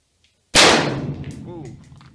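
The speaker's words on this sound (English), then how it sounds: "So is it ready to take some shots?" A single loud gunshot from an AR-15 pistol fired under a roof, a sharp blast followed by a long ringing reverberant decay, with a faint voice briefly near the end.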